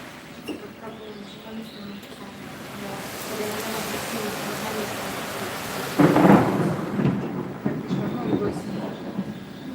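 Rain falls steadily outdoors while a deep roll of thunder swells partway through, loud and close, with a person talking quietly underneath.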